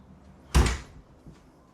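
A house's front door bangs once as it opens or swings shut, a short sharp thud followed by a fainter knock about a second later, with a quiet room otherwise.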